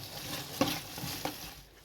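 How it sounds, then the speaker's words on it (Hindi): A slice of cheese being stirred into a pan of pasta sauce until it melts: soft scraping and a couple of spoon knocks against the pan over a faint sizzle, close and brief. "इसको भी हम थोड़ा सा मिक्स कर लेंगे जब तक ये चीज़ मेल्ट हो जाएगा"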